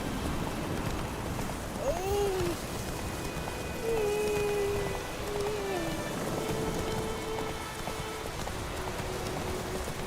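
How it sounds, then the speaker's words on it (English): Steady rain pours in The Witcher 3 video game, a loud, constant hiss of drops on surfaces, with faint tonal game sounds drifting in the background. "It's raining, it's pouring"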